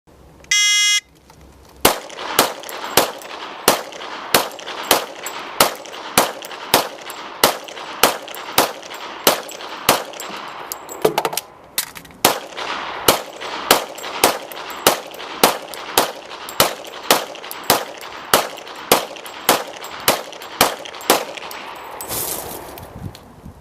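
Rifle fire from two 15-round magazines emptied at three targets, loud sharp shots in an evenly spaced, steady rhythm with a short pause midway for the magazine change.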